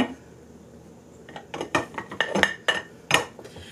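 A sealed bag of flour is opened and tipped into a kitchen canister: after a quiet start, a run of crisp crinkles, taps and clinks close by, sharpest near the end, with no talking.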